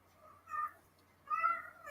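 A kitten known as a whiner gives two plaintive meows a little under a second apart, soft and fairly close, against a quiet room with a faint low hum.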